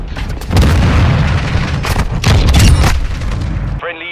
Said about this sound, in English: Request an airstrike at this location.